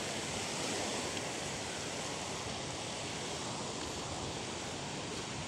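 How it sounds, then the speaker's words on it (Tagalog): Steady, broad surf noise from waves at the seashore in Silay, a constant wash with no distinct breaks, fairly faint and unbroken. "Nandito po tayo sa tabing dagat."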